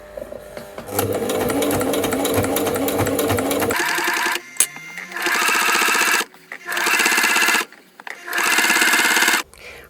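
A sewing machine stitches a sweatshirt seam at stitch width 4 in fabric cut from old clothes. It runs in one long steady stretch, then in three loud, close bursts separated by short pauses.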